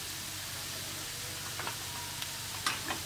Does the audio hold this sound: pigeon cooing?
no